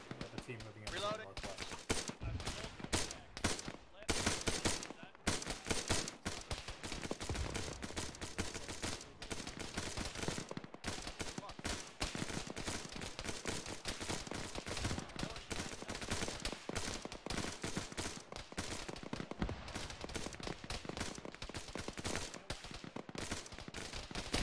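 Dense, nonstop gunfire from a military firefight in the ArmA video game, with rapid automatic bursts and overlapping shots throughout, loud and close, with voices talking underneath.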